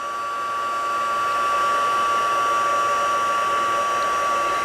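A heat embossing tool blows steadily on a large painted hardwood piece, a continuous whirring hum with a strong motor whine, close and unbroken throughout.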